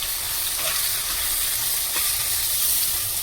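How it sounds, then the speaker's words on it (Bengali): Ground coriander, cumin and chili powder with salt fry in oil in a pan for a rui fish curry, giving a steady, close, even sizzle throughout with no talking. "মশলাটাকে ভেজে নেবো ভালো করে।"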